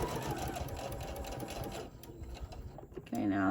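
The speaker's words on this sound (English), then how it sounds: "Now I'm gonna sew all the way down this side until we get to that corner, so we can get that elastic all nicely sewed in." Sewing machine stitching elastic into a fabric face mask, a fast steady mechanical whir up close that stops briefly, then starts again.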